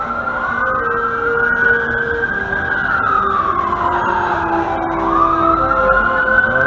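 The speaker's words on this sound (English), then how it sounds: "there's some other vehicle here putting a siren on" A fire truck siren wails loud and close on a street in Toronto, its pitch sweeping up and down in long continuous cycles over steady traffic rumble, with no talking.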